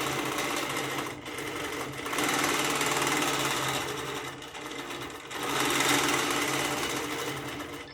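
A sewing machine quilting through fabric and batting, running in fast steady bursts with short pauses between them, close and clear with no talk.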